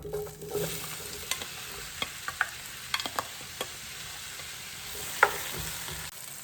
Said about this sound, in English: We're gonna start with mushrooms. I have 3 tablespoons of oil in here, olive oil.